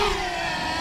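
Motors of a DJI Mavic Mini drone whir in a dense, steady high-pitched buzz, close and continuous for under a second.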